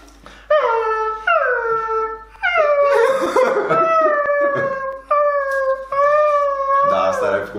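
A person imitates a hungry dog with drawn-out howls and whimpering, begging yips in several separate bursts, loud and close, with laughter and brief chatter between the calls.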